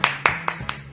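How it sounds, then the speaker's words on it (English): Four sharp, evenly spaced hand claps ring out up close, a short round of applause alone with no voices. "Round of applause for that man."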